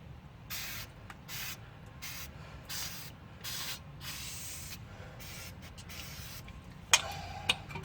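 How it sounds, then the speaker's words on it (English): Repeated short bursts of aerosol spray hissing onto a broken rear brake caliper of a 2005 Toyota Camry to clean off oil, about a dozen quick sprays in an uneven rhythm, followed by a couple of sharp clicks. "spray it down"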